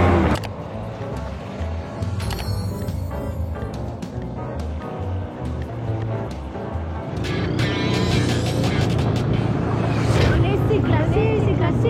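A snowmobile engine rumbles steadily while riding over icy snow, growing louder toward the end, with a voice talking over it and scattered bumps and clatter throughout.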